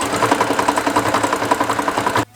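A sewing machine stitching two ropes together into a coiled rope basket, a loud steady rapid mechanical chatter of needle strokes that runs evenly, then cuts off abruptly at the end.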